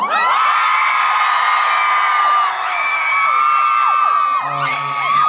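A concert crowd at Beijing's Wukesong arena screams and cheers in loud, sustained, shrill waves that fill the whole stretch.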